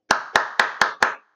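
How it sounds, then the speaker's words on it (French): A single person clapping hands five times in an even, deliberate rhythm, each clap sharp, close and loud with a short ringing tail, nothing else around. "Je vais applaudir."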